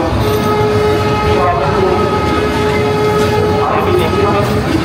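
Local commuter train pulling away toward Tongi railway station on the Dhaka to Mohanganj line, a steady loud rumble of wheels and carriages with a sustained horn-like tone running through the whole stretch.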